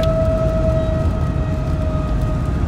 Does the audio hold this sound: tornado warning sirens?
yes